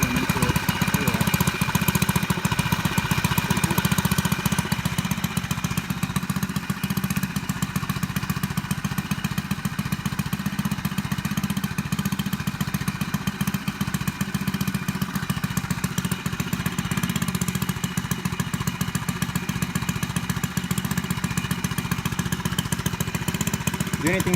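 A 4-stroke engine on a friction drive motorized bike runs steadily nearby, a continuous buzzing, rattling drone that holds an even level throughout with no talking.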